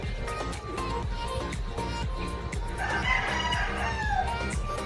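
A gamecock rooster, a gift bird, crows loudly and close by, a long drawn crow with clucking and farmyard sounds around it.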